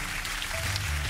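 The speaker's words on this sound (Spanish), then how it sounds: "El aplauso para Rocío Carriel." A studio audience applauds on a Saturday television variety show, a dense, even patter of clapping that fills the room at close range, loud and unbroken, with no one talking.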